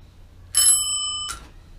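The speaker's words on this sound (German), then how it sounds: "Dreht die Klingel vorher in die richtige Position." A freshly mounted bicycle bell rings twice, close and bright, with a crisp metallic ding followed by a second shorter strike after a brief pause.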